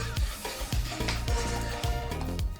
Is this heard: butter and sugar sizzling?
yes